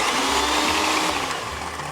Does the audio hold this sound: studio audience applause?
no